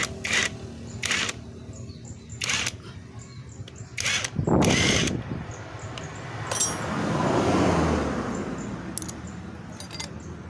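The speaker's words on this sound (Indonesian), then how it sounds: "Kita bongkar dulu untuk mur kopling manualnya ya." Tools work loose the clutch nut on a Jupiter MX motorcycle in a workshop, giving repeated sharp metallic taps and rattles followed by a longer grinding, whirring stretch, all fairly close.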